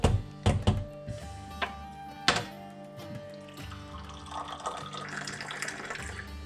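Water being poured into a hot glass while making mint tea in Morocco, starting with a few sharp thunks and splashes, then a steady, close trickling pour that builds toward the end.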